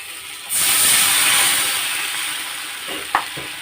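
Water hits a hot pan of fried chillies and green chilli paste with a sudden loud hiss that slowly fades into a softer sizzle, followed by a brief clink of a utensil.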